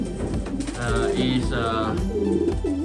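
Male racing pigeons coo in a close, continuous series of throaty, rolling calls, with several birds overlapping through the whole stretch.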